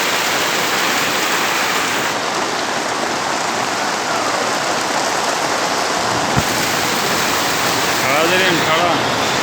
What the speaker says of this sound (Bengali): ভরপুর বৃষ্টি হইতেছে আমগো এলাকায়, ভরপুর বৃষ্টি, কোনো ক্ষান্ত নাই।